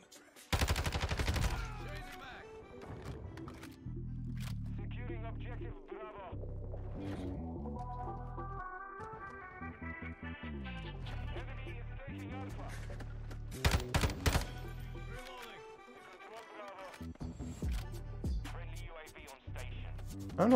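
Bursts of Lachmann 556 assault rifle fire ring out in Modern Warfare 2, rapid crisp shots in several strings with pauses between, mixed with game effects and occasional voices.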